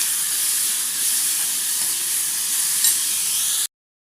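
Onion and green chilli frying in a pan for palak and potato stuffed chapati, giving a steady, close hiss of sizzling oil that holds evenly for several seconds before cutting off abruptly.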